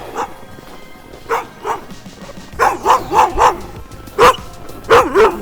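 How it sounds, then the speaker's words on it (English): A dog outdoors in bitter cold around minus forty barks in repeated sharp bursts, first scattered single woofs, then a quicker run of several barks and a few more loud ones near the end, fairly close. "If you don't like being barked at by dogs, this is a terrible job."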